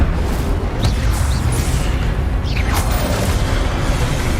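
Incendio fire spell cast in Hogwarts Legacy on PC, heard as a burst of whooshing, crackling flame and booming impacts over a steady, dense game soundscape.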